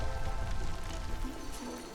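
A rain engine in the colony-building game Against the Storm gives off a steady, dense patter of falling rain that hisses evenly throughout, with nobody talking over it.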